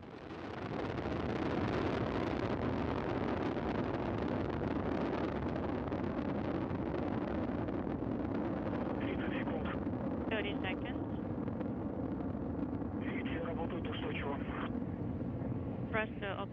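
Soyuz rocket with four boosters and a single core engine roaring at liftoff toward the International Space Station, a dense steady low rumble throughout, with a flight controller's voice talking over it in the second half.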